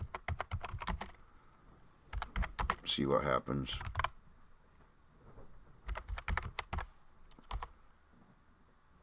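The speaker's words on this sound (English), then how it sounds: "just typing 1, 2, 3, 4." Computer keyboard keys tapped in quick bursts for entering a code at a sci-fi game terminal, three clusters of crisp clicks separated by pauses, with a brief voice speaking between them.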